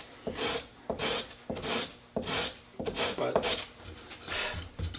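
Paper-backed sandpaper rubbed back and forth on a Citori shotgun stock, about eight even, rasping strokes in a steady rhythm, close and clear.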